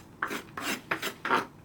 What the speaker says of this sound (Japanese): 人参を細切りにしていきます。